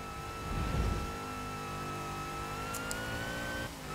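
A car engine in the Forza Horizon 3 video game, Hot Wheels expansion, revs steadily as the car drives through a loop, with a rising whine and a brief louder surge early on.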